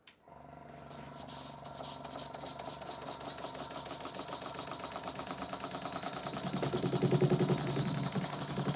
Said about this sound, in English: it's a fairly nice engine, and it runs like a dream